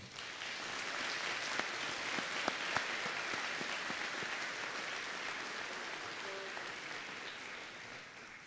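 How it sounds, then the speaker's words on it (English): Outdoor or hall audience at a 2021 high school graduation ceremony claps in a long, even round of applause, fairly distant and soft, holding steady before tapering slightly at the end. "Please give a round of applause for them all."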